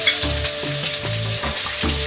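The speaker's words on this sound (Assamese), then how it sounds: "মাছ ভাজা তেলতে মই দিছোঁ অলপমান গোটা জিৰা তেজপাত এটা আৰু শুকান জ্বালা এটা এইবাৰ দি দিওঁ পিঁয়াজখিনি" Onions fry in fish oil with whole cumin, a bay leaf and a dried chilli, giving a constant loud sizzle broken by regular scraping stirs of the pan, with no one talking.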